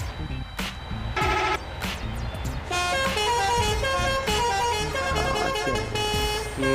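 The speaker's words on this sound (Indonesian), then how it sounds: "kita langsung saja kita klakson di depannya agar minggir teman-teman ya" A loaded rice truck on the road near Serang sounds its musical multi-tone horn in repeated bursts, loud and close, first in short blasts and then a longer melodic sequence over engine rumble.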